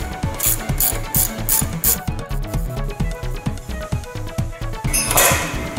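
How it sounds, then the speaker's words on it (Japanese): A ratchet wrench cranks rapidly on a tight bolt during an upper arm replacement on a Honda Odyssey RB1's suspension, giving steady repeated clicking strokes with a few sharper metallic clinks near the end. "ここ結構ね、ここ硬いので少し揺さぶりながらとか、あとはラチェットでですね"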